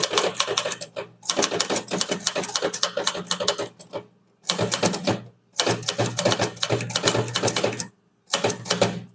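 A manual typewriter is used for an English statement exercise, producing rapid, loud, close clacking keystrokes in long bursts separated by brief pauses, with no talking.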